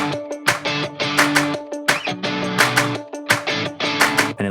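A pop chorus section, with layered guitars, bass and punchy drums, heard as a full, rhythmic mix with strong beat accents and short gaps between bursts.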